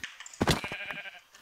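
A sheep in the video game Minecraft gives a single short, wavering bleat, close and clear, followed by a quieter trailing call.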